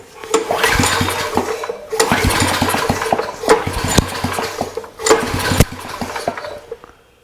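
A restored generator engine cranking in repeated starting attempts, with bursts of mechanical churning and rattling separated by short pauses, loud and close, though it never settles into a steady run.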